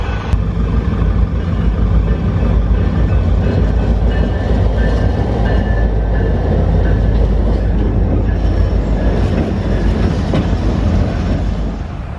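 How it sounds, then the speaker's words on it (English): A freight train rolls past near Fort Morgan, Colorado, a loud continuous rumble with wheel clatter that holds steady for the whole stretch and eases slightly at the end. "there's a train coming. Let's check it out."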